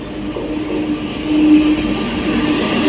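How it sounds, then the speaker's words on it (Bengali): A train arriving at a station rumbles past close by in a continuous loud roll that swells midway, with a faint thin squeal riding on top. "একটা ট্রেন আসছে বাট এটা আমাদের ট্রেন নয়"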